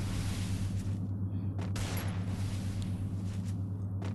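Rapid gunfire in a Thai one-on-one shooting video game, dense overlapping bursts over a constant low hum, loud and continuous throughout with brief gaps in the crackle.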